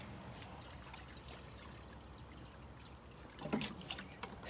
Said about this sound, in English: Fill your pump all the way up with water.